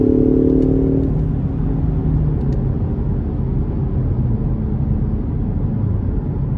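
Turbocharged engine of a 2021 Ford Mustang EcoBoost Premium with a 10-speed transmission accelerating, a steady loud drone heard from inside the cabin, holding fairly constant throughout.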